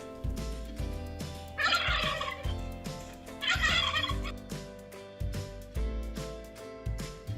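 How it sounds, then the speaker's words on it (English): Two loud, rapid turkey gobbles ring out, each a warbling burst, over a bouncy background tune with a steady beat. "They make gobble gobble sound."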